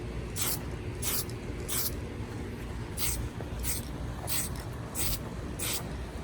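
A spray can fires short test bursts while painting a NASCAR 75th anniversary model car. About eight brief hissing puffs come at a fairly even rhythm, close and distinct over a low background hum.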